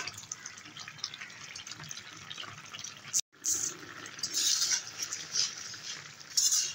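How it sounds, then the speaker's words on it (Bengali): Fish curry of rohu with ridge gourd simmering in a pot, a soft steady bubbling and watery burble with faint splashes, fairly quiet and close, with no talking. "আর 2-3 মিনিট ফুটিয়ে নেব।"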